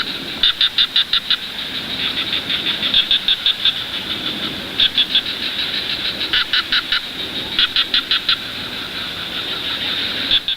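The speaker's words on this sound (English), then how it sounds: "We hear cicadas just like at home." Cicadas in a Malaysian forest trill in a loud, high-pitched chorus with rapid pulsing bursts repeating in rhythmic waves over a steady buzzing drone, with no talking.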